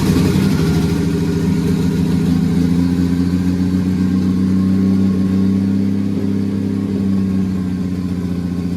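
A 1972 Pontiac Ventura Sprint's factory Chevy six-cylinder engine runs steadily on a shop floor after years of sitting, a loud, even idle with a deep rumbling hum and no voices.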